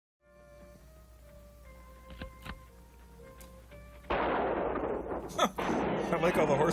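Gunshots ring out in an old western film, a few sharp cracks over a quiet, humming soundtrack, followed by a sudden louder burst of noisy action with more shots and commotion.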